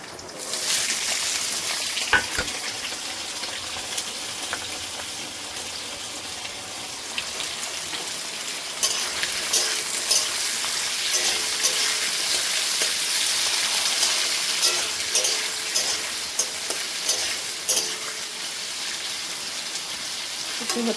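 Potatoes hitting hot oil in a pan already seasoned with fried chilli and black cumin, giving a dense, continuous sizzle that stays loud and steady throughout with occasional crackles and no speech.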